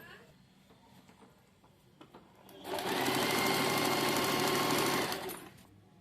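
A sewing machine stitches around the waistband of a dhoti salwar, starting after quiet handling noises and running in a loud, steady burst for about two seconds before stopping.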